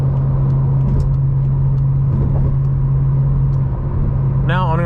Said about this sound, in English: this car has no issues with getting up to speed